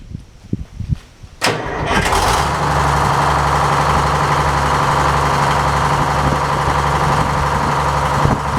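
An old Frick No. 1 sawmill engine fires up with a sharp burst, then settles into a loud, steady, chugging run that stays close and constant throughout.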